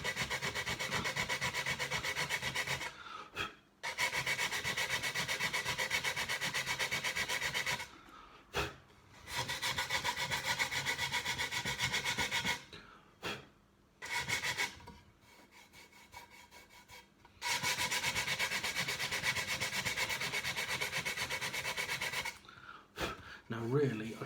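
Hand sanding of wood for shelving, a steady broadband rasping that comes in long strokes, broken by short pauses, fairly close and loud.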